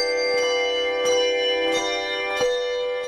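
Handbells rung by a retirement community's bell choir at Christmas, bright sustained tones with several fresh strikes roughly every two-thirds of a second, ringing steadily without voices.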